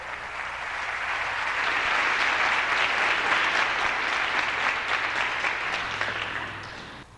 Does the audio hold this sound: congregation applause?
yes